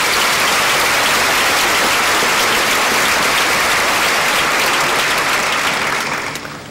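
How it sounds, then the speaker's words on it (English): A crowd gives Central Office staff a big round of applause, loud and dense clapping that stays steady for several seconds before tapering off at the end. "so if you would give them a big round of applause"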